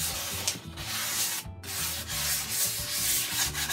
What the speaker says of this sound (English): very light sanding all around.